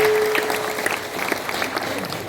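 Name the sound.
applause at a ceremony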